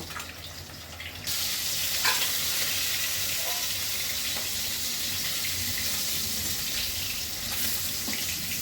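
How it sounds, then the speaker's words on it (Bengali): Rohu fish fry in hot oil, starting as a softer sizzle that swells after about a second into a loud, dense, steady hiss with occasional crackles, close and uninterrupted. "তেল গরম হয়ে গেছে, অলরেডি মাছ ভাজতে শুরু করেছি।"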